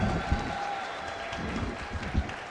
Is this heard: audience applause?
yes